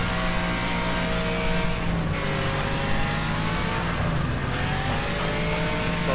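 A race car engine roars nonstop while racing on a dirt speedway oval in the Wreckfest video game, loud and steady, with pitch rising and falling as the car revs and shifts. No voices.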